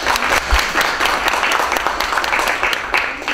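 Steady, dense clapping rises from a conference audience at the LibreOffice conference, a full room applauding continuously without speech.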